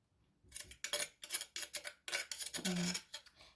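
Papaya salad with tamarind pounded in a mortar, a series of about a dozen sharp knocks in an uneven rhythm, close and fairly quiet, with light scraping between strikes.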